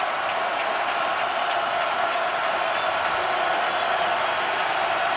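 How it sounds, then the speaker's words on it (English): Stadium crowd roaring at an NFL game between Pittsburgh and Baltimore, a dense, sustained wall of cheering and noise at steady loudness from start to end, with a commentator's voice faintly under it. "Crowd in full voice on a 3rd and 6 from the 38-yard line"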